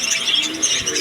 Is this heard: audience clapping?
no